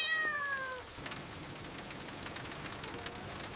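A neighbor's cat meows once near the start, a short rising-falling call, against a steady patter of rain on surfaces that continues alone afterward.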